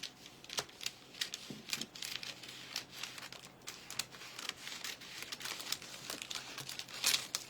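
Paper is cut for a craft project in a series of quick, close crinkling snips and rustles, irregular and fairly quiet, with no talking.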